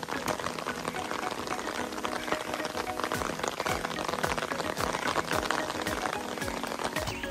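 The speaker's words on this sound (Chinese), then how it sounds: "下雨" Rain falls steadily on a Himalayan mountain trail in Nepal, a dense, even patter with many sharp close drops striking surfaces nearby.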